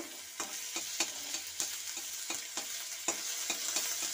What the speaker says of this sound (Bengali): রসুন আদাটা ভেজে নিচ্ছি ভালো করে। অল্প একটু তেল দিয়ে দিলাম, তেল দিয়ে ভালো করে ভেজে নিচ্ছি।